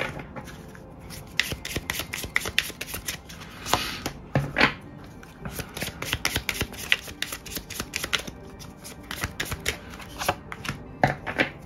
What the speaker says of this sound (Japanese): シャッフルしていきます。